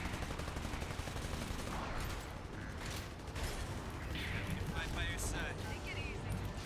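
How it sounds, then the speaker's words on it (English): Rapid gunfire and clattering shots in Spyro Reignited Trilogy, steady and busy throughout with ringing metallic chimes, set against game audio with no clear talk. "it looks like I'm shooting at myself"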